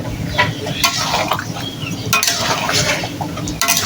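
Chicken curry with potato is stirred in a pan, repeated metallic scrapes and clinks of a spoon against the pot over a soft simmering sizzle, close and fairly loud, with no speech.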